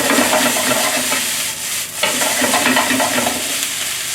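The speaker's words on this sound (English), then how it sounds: "We're gonna stir fry the noodle until nicely hot." Cold leftover noodles are stir-fried in a hot frying pan with cooking oil, giving a loud, continuous sizzle with scraping stir noises and a brief dip in the middle.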